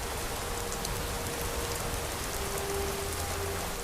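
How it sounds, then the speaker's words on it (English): Steady rain falls continuously in the video game Skyrim, a dense, even hiss of drops landing on surfaces, moderately quiet and unbroken, with no one speaking. "at least the rain is good for the crops"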